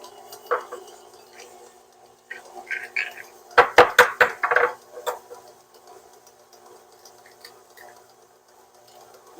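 Eggs cracked into a bowl for almond pound cake, a cluster of sharp taps and shell cracks around the middle, with faint scattered clicks before and after, close up and without talk.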